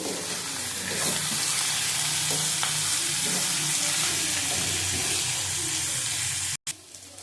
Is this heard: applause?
no